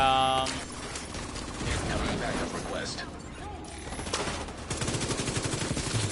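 Rapid turret fire in the video game The Division 2, a loud, dense stream of shots mixed with other game sounds, with a voice talking over part of it.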